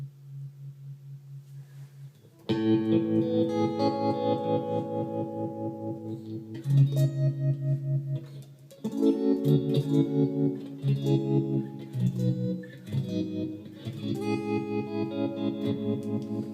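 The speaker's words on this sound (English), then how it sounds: "And just with a tiny bit of reverb on it, it sounds absolutely fantastic." Clean electric guitar chords through a Shapeshifter tremolo pedal pulse with a wavering tremolo, washed in light reverb; steady, full strumming after a quieter opening, no voices.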